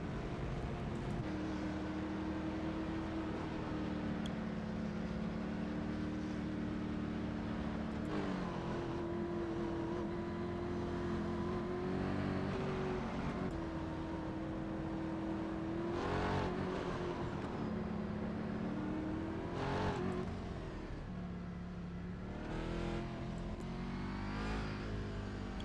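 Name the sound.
race cars behind pace car in iRacing video game, Mosport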